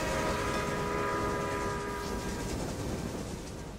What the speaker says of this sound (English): I have to wait for these trains to go through.